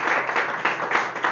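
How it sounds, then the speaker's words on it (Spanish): Congregation in a church applauding together: a steady wash of many hands clapping at moderate loudness, swelling in small surges for over a second, with no voices standing out. "Démosle un aplauso al Rey de Reyes y Señor de Señores."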